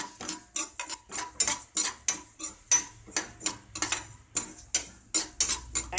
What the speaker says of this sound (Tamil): நல்லா சட சடன்னு வறுப்பு தான் இதுக்கு முக்கியம்